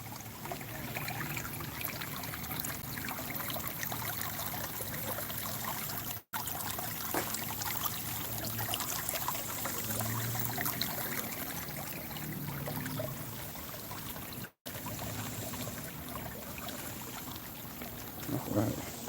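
Creek water trickles and flows steadily over rocks outdoors, a continuous close wash of liquid sound lasting throughout with no voices over it.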